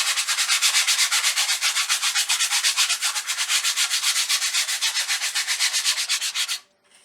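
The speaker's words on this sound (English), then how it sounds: "it has glitter on the front, so I'm just going to soften that up a little bit and I'm going to sand it down" Rhythmic back-and-forth sanding of a glitter-coated craft surface, a close, loud scratchy rasp repeating in steady even strokes for several seconds before stopping abruptly.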